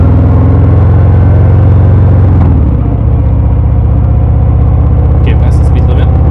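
Harley-Davidson Sport Glide 107 motorcycle at full throttle, a loud, steady low engine drone with a gear change partway through, heard close with wind noise and a rider talking over it.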